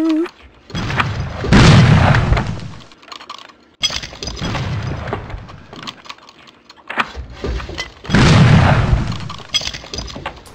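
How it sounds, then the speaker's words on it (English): Musket shots in the video game Nosferatu: The Wrath of Malachi, two loud booming blasts a few seconds apart with rough, crackling tails, set among quieter game clatter. "I hit him from back here with the musket"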